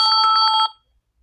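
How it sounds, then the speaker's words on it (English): A phone rings with an incoming call, a loud, close electronic trill pulsing rapidly for about half a second before cutting off into silence. "I was getting a call."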